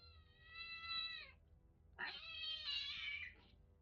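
A cat meows twice, close and fairly quiet, the second call longer and more drawn out, with little else around.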